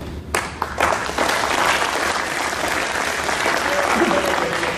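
An audience applauds at a company new-year ceremony and award presentation, a sustained wave of dense clapping that swells after a brief start and carries on steadily, with faint voices underneath.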